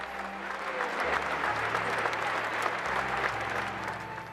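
A large crowd applauds at the close of Pope John Paul II's funeral, a broad, sustained wash of clapping over low, steady tones that hold beneath it throughout.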